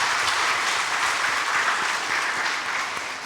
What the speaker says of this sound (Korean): 우리 교사들에게 정말 열심히 힘내서 어린 생명들 주의 사랑으로 잘 품고 다음 세대를 잘 키워가도록 해달라고 우리 한번 박수 한번 할까요?